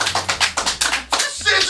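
A small audience at a live comedy show claps in a few quick, uneven bursts, close and fairly loud, with brief pauses between them.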